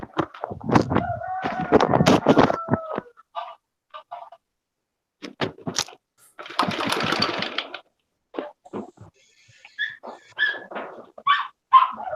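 A dog barks in short bursts between pauses, and a rooster-like crowing call cuts in, both close and loud with quiet gaps between.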